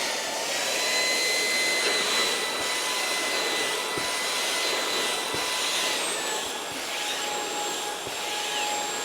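Smart Ai V5 cordless vacuum cleaner running steadily on a sofa, a continuous broadband whoosh with a high motor whine that shifts slightly in pitch partway through, loud and close with no talk.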